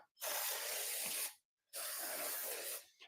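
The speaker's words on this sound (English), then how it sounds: "give me the brake cleaner. I'm just gonna hose this off." Brake cleaner sprays in two long, loud hissing bursts of about a second each, close by, as it hoses off clutch and flywheel parts for a Toyota 1MZ engine, with a brief silence between them.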